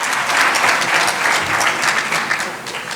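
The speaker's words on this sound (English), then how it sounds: "Let's give him a big round of applause." Audience at a South Florida Muslim organizations community event applauding steadily for a board member being introduced, a dense, sustained clapping from a fairly close crowd that tapers slightly toward the end.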